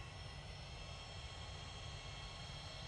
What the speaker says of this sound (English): it's a beautiful PC-24 by the looks of it.